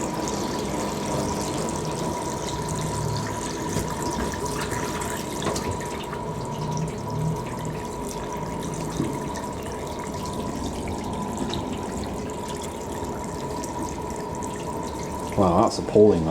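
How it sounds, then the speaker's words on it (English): Water running steadily into a sink being cleaned out of silt-like grime, a constant close splashing flow with a dripping, rushing texture and a few clunks near the end. "I'll just give the sink a good clean out"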